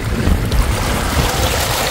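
Sea waves crash against large rocks along the Boulevard road seawall in Masbate City, a steady loud low rumble of surf mixed with wind buffeting the microphone, continuous throughout.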